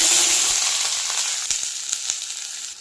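Bay leaf, cinnamon, cloves and onion fry in hot oil in a pan, giving a loud, steady sizzle close by, with a few scraping stirs toward the end.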